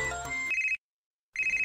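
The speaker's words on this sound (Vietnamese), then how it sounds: "Có điện thoại kìa." A telephone rings indoors in two clear electronic bursts separated by a short silence, loud and close, following a brief stretch of background sound.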